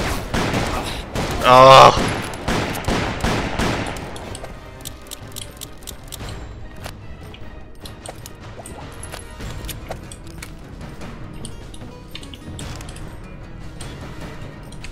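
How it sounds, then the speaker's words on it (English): Gunfire in the PC shooter Call of Juarez on hard difficulty, a loud burst of rapid shots in the first few seconds, then quieter scattered game noise with a voice speaking over it. "Quit shooting me above."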